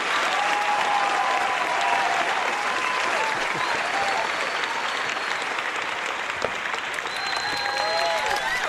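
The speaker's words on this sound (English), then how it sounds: "round of applause" Sustained crowd applause greets a guest, a thick, even wash of many hands clapping for several seconds with faint voices and a few brief whistle-like cries mixed in.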